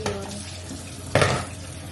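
Tap water splashes over harvested vegetables being washed in a kitchen sink, a soft rushing with a louder burst as produce is moved under the stream.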